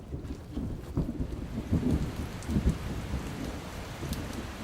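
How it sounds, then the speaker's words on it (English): Rain falls on a porous asphalt parking lot in Minnesota, a steady patter with soft rumbling thunder, moderately loud and without voices. "It's raining."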